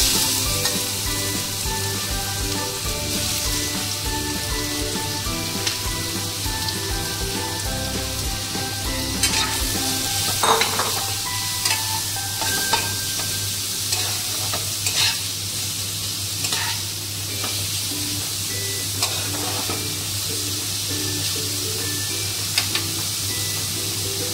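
Grated papaya frying in a pan with fennel seeds and asafoetida gives a steady, close sizzle that runs the whole stretch, with occasional soft scrapes and clicks of stirring and no voices.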